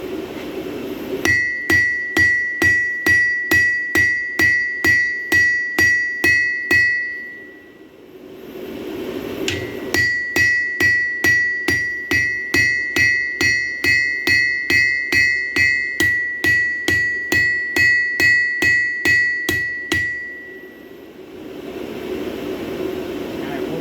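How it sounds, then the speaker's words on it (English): Rapid, evenly spaced hammer blows ring out on a steel blade as bevels are forged, in two long bursts, each strike bright and clanging, separated by a short pause. "we need to hammer out some more bevels down in this area here"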